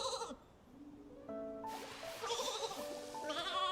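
In the Infinity Nikki video game, a flora sheep lets out a few short, quiet bleats, each a wavering tonal cry, separated by brief pauses with faint game ambience behind.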